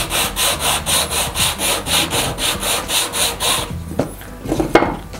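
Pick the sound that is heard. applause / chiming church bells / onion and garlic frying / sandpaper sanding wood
sandpaper sanding wood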